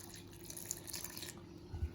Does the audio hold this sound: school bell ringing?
no